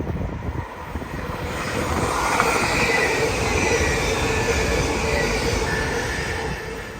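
An LNER Azuma bound for London King's Cross passes through Peterborough station, a loud sustained rush of wheels and rails that swells and holds, with faint squealing on top.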